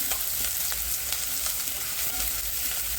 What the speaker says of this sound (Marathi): जरा छान मऊ होईपर्यंत आपण भाजून घेणार आहे